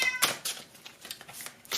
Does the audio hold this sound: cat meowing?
yes